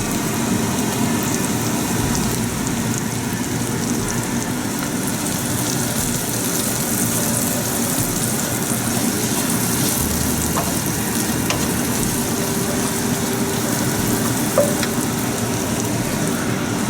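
Chilies fry in melted butter over lowered heat, a steady, even crackling sizzle like light rain that continues throughout with a faint tap near the end.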